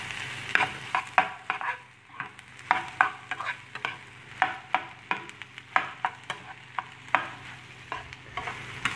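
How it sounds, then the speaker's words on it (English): Egg being chopped and stirred through rice in a hot pan, many sharp scraping and clacking strokes of a utensil in an irregular rhythm over a steady low sizzle, close and fairly loud, with no talking. "slide your egg in and then just"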